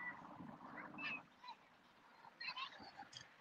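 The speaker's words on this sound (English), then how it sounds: "I can hear birds" Faint duck- or goose-like honks and calls come from birds outdoors, a few scattered short cries over quiet background.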